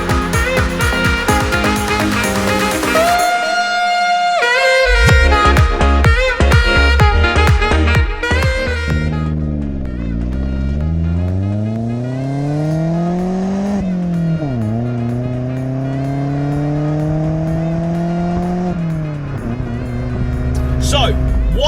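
Vauxhall Corsa D 1.2 limited edition on B-roads, with in-car engine drone rising and falling through gear changes and revving, continuous under someone talking.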